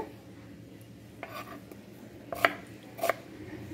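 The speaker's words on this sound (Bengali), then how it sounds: "পেঁয়াজটা ভালো করে কুচিয়ে নেব" A kitchen knife chopping onions finely on a board: a few scattered light taps, then two sharper, louder knocks close by, with a quiet background between strikes.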